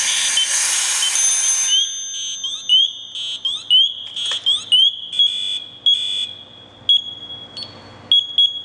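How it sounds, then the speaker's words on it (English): An MSA SCBA low-air alarm sounds as air bleeds off, with a burst of hissing air followed by repeated high, pulsing electronic chirps and whistle tones that gradually slow and fade. "we're also going to do a secondary check to make sure that the green light's turned to red and that the battery, the audio alarm activates"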